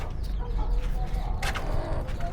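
Chickens cluck nearby at a rural home at dawn, short clucks rising over a steady low rumble of background noise.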